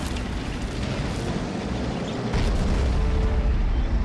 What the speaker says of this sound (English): Blowing the gate open for a wider approach.